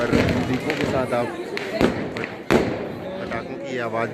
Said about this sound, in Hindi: पटाखों की आवाज़ भी सुन सकते हैं।